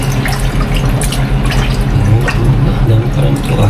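Meat rinsed under a running tap in a kitchen sink, water pouring and dripping steadily and close by, with a low background hum throughout.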